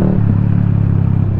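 A Yamaha XSR155 motorcycle with a Villain aftermarket exhaust makes a loud, deep, steady throbbing drone at close range throughout.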